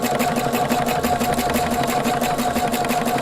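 A Husqvarna sewing machine running decorative stitches with embroidery thread and an edge stitch foot, a steady, close, rapid mechanical whir and rhythmic needle clatter throughout, with no talk.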